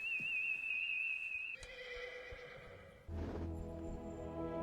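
Gandalf's horse in The Lord of the Rings: The Two Towers lets out a loud, wavering whinny near the end, after a steady high whistle-like tone and softer film ambience.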